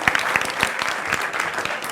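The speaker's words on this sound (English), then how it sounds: "give Dan a round of applause" An audience claps for Dan Gilbert at a sports panel event, a dense burst of handclaps with sharp individual claps standing out, fairly close and steady, with no talking over it.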